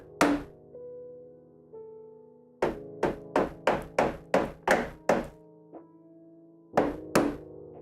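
Hard plastic-and-metal thunks from LED fixtures on a Voron 2.4 3D printer being banged after a fall, a few isolated knocks then a fast run of about eight strikes, each with a ringing tonal decay, ending with two more hits.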